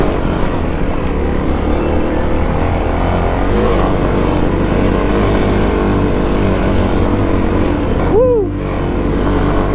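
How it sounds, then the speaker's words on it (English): Kawasaki KLX250 dual-sport motorcycle climbing a steep uphill trail in second gear at full throttle, loud strained engine drone held steady throughout, close and continuous with wind rush and no talking. "Right here, I'm in second gear. Gonna climb in second gear,"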